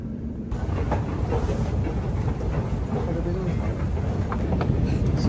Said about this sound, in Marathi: so he Mungeli train